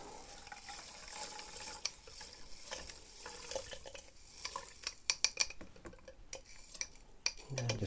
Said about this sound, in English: And just stir that in.